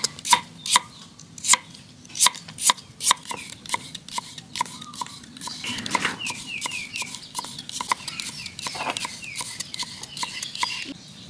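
Sharp knife strokes cut carrots into thin strips on a board, a string of crisp chops in quick bursts that fade into quieter, denser cutting, close and alone.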